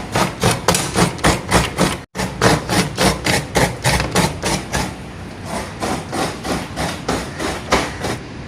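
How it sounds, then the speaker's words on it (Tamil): Coconut grated by hand for Jaffna-style coconut rotti, a loud, fast, regular series of rasping scrapes repeating about three times per second, close and without voices. "இப்போ தேங்காய் திருவோமா."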